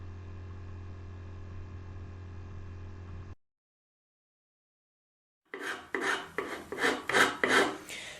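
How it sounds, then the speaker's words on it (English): Hand filing on the sawn edges of a wooden table top after a steady hum and a pause: a series of rasping strokes, close and fairly loud, in a quick back-and-forth rhythm. "I then clean up the sawn edges with spoke shave, file, and I use a chisel"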